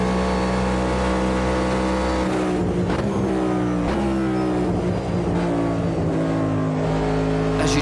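Steady, loud drone of a NASCAR Next Gen race car engine in the Automobilista 2 racing game, holding a high pitch and then shifting through revs and gear changes as the car exits a bend. No voices.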